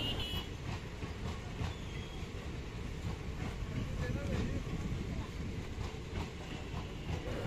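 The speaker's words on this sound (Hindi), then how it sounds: "ये शायद पैसेंजर ट्रेन है।" A Samastipur–Raxaul passenger train passes on an Indian rail route near flyover construction in Sitamarhi, giving a steady, fairly loud rumble of rolling wagons with faint clatter throughout.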